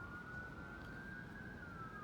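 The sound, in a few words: emergency vehicle sirens passing outside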